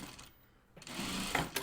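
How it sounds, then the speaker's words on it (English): A sewing machine stitches the outer waistband of a pair of jeans, a short burst of mechanical whirring that starts after a quiet gap and runs steadily to the end. "now I'm going to sew the outer waistband"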